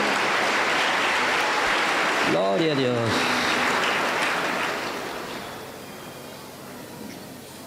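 Pentecostal church congregation at an anniversary campaign service applauds loudly and steadily, with a voice speaking briefly over the clapping midway before it fades toward the end.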